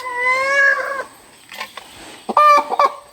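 A chicken clucks and squawks nearby in a home kitchen setting, a long drawn call followed by a pause and then a burst of shorter, choppy clucks.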